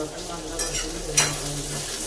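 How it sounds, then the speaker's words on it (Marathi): Onion slices tossed into a pan with green chillies for an Udupi-style potato bhaji, giving a steady, close sizzle and fry noise with a brief louder splash of stirring midway. "आपण कांदा परतून घेऊया."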